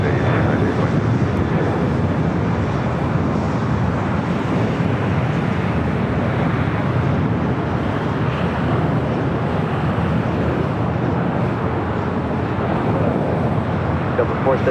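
An airliner takes off at LAX with a loud, broad roar of jet engines that holds steady and full throughout, while radio chatter comes and goes faintly underneath.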